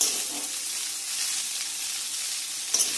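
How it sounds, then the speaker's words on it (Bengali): Chow noodles frying and being stirred in a pan, a steady bright sizzle filling the whole stretch with a brief clatter near the end, close and fairly loud, no voices. "এবার এইভাবে নাড়াতে থাকবো, সব মিশিয়ে নেবো।"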